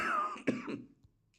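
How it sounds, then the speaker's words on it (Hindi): A short, raspy throat-clearing cough close to the mic, a quick burst after some murmuring, then quiet. "खांसी तो ठीक नहीं होते"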